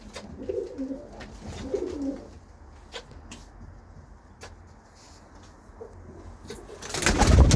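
Pigeons coo in low, repeated bursts inside a wooden loft of paired racing birds, with a rustling, shuffling background and a loud burst of noise at the very end.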